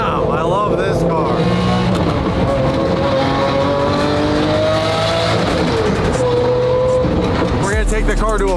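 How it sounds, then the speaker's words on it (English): A Lamborghini Aventador V12 drives through traffic, its engine droning loud and close with rising and falling revs throughout, ending in a brief burst of higher revving. "let's listen to that V12"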